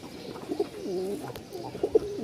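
A male Giribaz pigeon coos softly nearby, with a few low, throaty coos spaced across the moment over faint background noise and a brief click.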